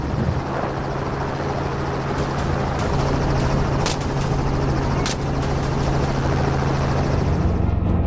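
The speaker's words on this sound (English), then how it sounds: "The helicopter veered in, closing the distance to give us a clear shot." A helicopter flies in low over a freshly harvested farm field during a wild boar hunt, its rotor and engine drone steady and loud throughout, with faint ticking clicks mixed in and no voices.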